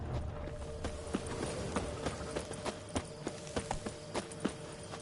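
The horse Roach's hooves clip-clop at a steady trot in The Witcher 3, a run of evenly spaced, fairly close knocks over quiet ambience.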